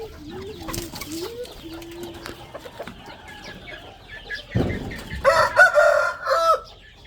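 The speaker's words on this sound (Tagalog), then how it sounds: "Dito ko nilagay yung mga manok ko." Several backyard chickens on a home lot crow and cluck, a rooster's call rising clearly near the end over scattered nearby clucking and farmyard bustle.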